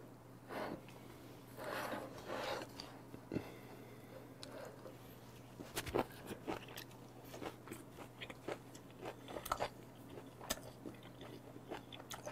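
Raw beef, eaten alongside sea urchin and sweet shrimp, is chewed close up: soft, wet bites and crunchy mouth sounds come in irregular bursts, fairly quiet, with occasional breaths through the nose.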